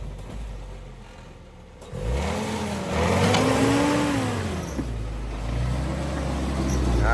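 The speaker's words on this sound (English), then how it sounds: "this is me in my 1948 Willys CJ2A Grandpa's Jeep climbing that same obstacle" A 1948 Willys CJ2A Jeep engine labors up an off-road obstacle, the pitch rising and falling in long swells as it strains and revs, loud and close, with no talk over it.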